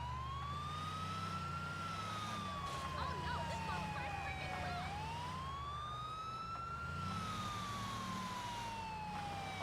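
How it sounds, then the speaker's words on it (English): An ambulance siren in the video game GTA IV wails in slow rising and falling sweeps, loud and continuous over a low engine rumble for the whole stretch. "Ambulance noises."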